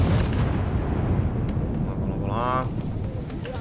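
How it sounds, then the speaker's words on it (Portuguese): A grenade blast in the shooter The Division rolls out as a loud, broad rumbling roar that fills the whole moment, with players chatting over the game noise. "eu vou jogar uma granada aqui"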